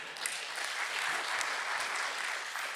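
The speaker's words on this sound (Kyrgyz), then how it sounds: "Бир кол чабып койгулачы." A comedy show audience claps together, a fairly faint, dense patter of applause that holds steady for a few seconds before tapering slightly.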